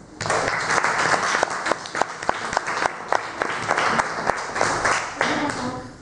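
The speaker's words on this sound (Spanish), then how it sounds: "Si os ha gustado, un fuerte aplauso." A classroom of students claps loudly after a school research presentation on minerals, with sharp, overlapping hand claps rattling on steadily for about six seconds.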